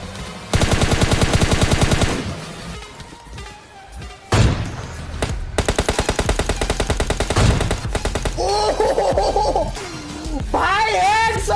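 Rapid automatic gunfire from the mobile battle-royale game PUBG Mobile Lite, loud and close in bursts with sharp single shots between, while a player talks over the action.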